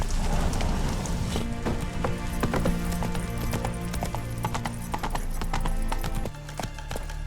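Roach the horse gallops in The Witcher 3, a dense, continuous drum of hoofbeats close up with loud rumbling throughout, easing slightly near the end.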